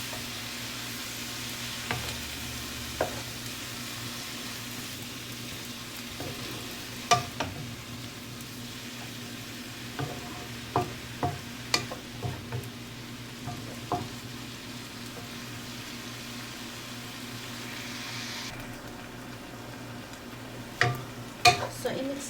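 Mushrooms stirred in a pot for noodle soup, with a low steady sizzle under repeated sharp clinks and scrapes of a utensil against the pot.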